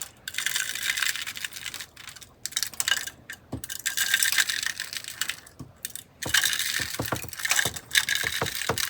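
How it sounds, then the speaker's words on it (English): Rapid dry clicking and tapping from a seed depositor placing Astrophytum cactus seeds into a tray of mix, continuous light rattling ticks with a few sharper knocks, close and fairly quiet. "I'm using my seed depositor to place 30 random Astrophytum seeds into the"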